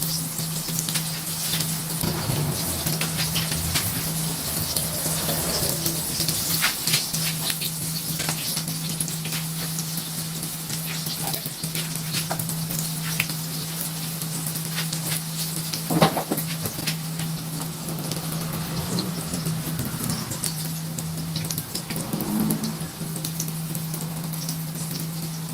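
Rolled lumpia-style bakwan fritters deep frying in hot oil, a steady dense crackle and patter that holds evenly throughout with a constant low hum beneath and no voices.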